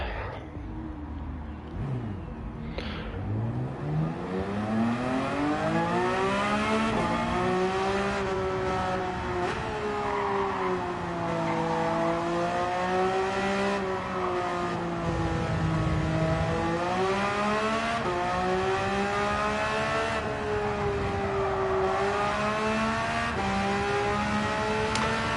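A Porsche race car in Gran Turismo 7 holds a loud, continuous engine drone, its pitch sweeping up and down as it accelerates through gear changes and corners, close and steady throughout.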